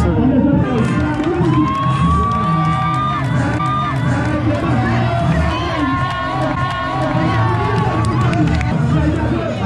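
A lively crowd at a national holiday celebration in Casamance, Senegal, cheers, shouts and chatters in a loud, continuous babble, with children's voices and whoops rising above the mass of sound.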